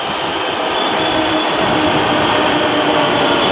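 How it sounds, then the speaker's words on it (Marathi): A metro train at a Pune station roars steadily and loudly as it arrives, a dense, continuous rumble and hiss with no break and no voices. "एक मेट्रो आली."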